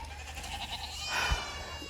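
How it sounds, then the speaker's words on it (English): A small goat bleats once on a farm, a nasal wavering cry rising over low background rumble, fairly close and alone without voices. "There's a couple little goats that's in here"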